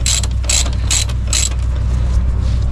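A hand ratchet tightens a bolt on the rear shock linkage of a 2017 Yamaha Raptor 700 ATV, giving four loud, close bursts of rapid clicking at an even pace, with a low background hum between strokes and no talk.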